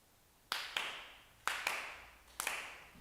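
Sharp ritual hand claps at a Konko fall memorial service ring out in a quiet hall, landing in close pairs with short pauses between, each crisp and near with a brief echoing tail.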